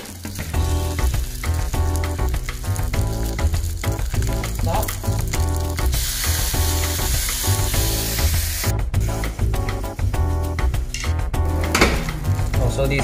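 Jiaozi dumplings dropped into hot vegetable oil in a wok: a loud, steady frying sizzle with a sharp burst of spitting as they hit the oil, plus occasional clinks of metal utensils against the wok.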